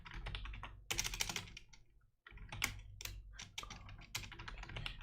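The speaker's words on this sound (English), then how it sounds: "Typing is hard." Close computer keyboard typing in rapid bursts of key clicks, pausing briefly midway before resuming at a brisk, uneven pace.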